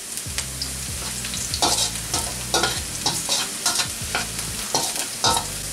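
Chopped onion frying in hot oil on high heat while being stirred, with steady sizzling and repeated scraping strokes of the spoon in an even rhythm, close and clear with no talking.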